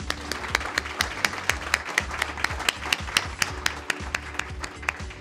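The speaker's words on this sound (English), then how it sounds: "Let's go ahead and give Ken another round of applause." A crowd applauds steadily, many hands clapping in a dense, even patter that carries on throughout.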